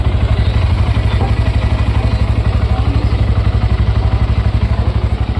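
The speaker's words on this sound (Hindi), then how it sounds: "आइए अब इसका इंजन साउंड सुन लेते हैं," A Honda CB 125 Hornet idles close by, its single-cylinder exhaust giving a loud, even, rapid thumping that is steady from start to finish.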